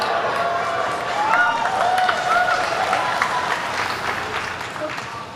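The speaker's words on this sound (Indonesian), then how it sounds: "saya 1-0 dapat tepuk tangan Pak barusan" Audience applause at an Indonesian discussion event on state-funded higher education, a sustained wash of clapping from a crowd at moderate distance, with some voices mixed in.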